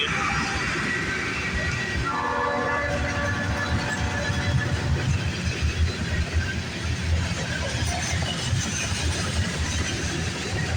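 A heavy CN freight train rolls past continuously on a rainy day at Scotch Block, with low engine drone and metallic clatter, steady and moderately loud throughout.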